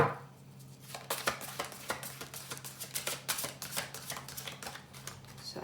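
Quick, crisp riffling and flicking of playing cards, a dense run of light snapping clicks that continues steadily without any talking.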